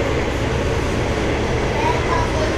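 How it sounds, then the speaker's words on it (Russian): A train pulls out of Aisa station on a summer day, a steady broadband rumble and rattle heard from inside the carriage, constant and fairly loud. "Айса, станция Айса, поезд тронулся."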